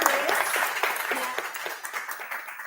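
An audience at a panel session on industrial reconstruction bursts into applause: a loud, dense patter of many hands clapping that slowly thins and fades.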